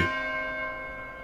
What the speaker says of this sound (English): Now that's what I call a bell ring.